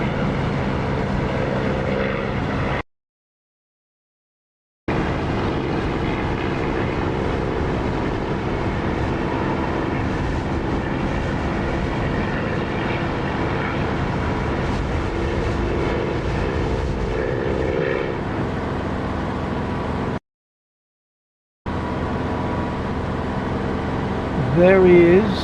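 Aircraft engine sound from the Echo 19 engine sound mod in the DCS flight simulator game, a continuous loud propeller-engine drone broken by two short silent gaps, with talking layered over it.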